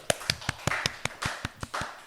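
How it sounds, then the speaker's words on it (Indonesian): A single person claps on a talk show, about ten distinct, fairly close claps in a loose, slightly uneven rhythm over two seconds. "tepuk tangan"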